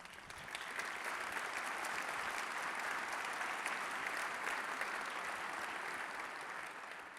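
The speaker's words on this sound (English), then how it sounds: "Please give him a big round of applause." Steady applause from a large conference audience at an engineering software general session, filling the room evenly for several seconds before tapering slightly; no speech.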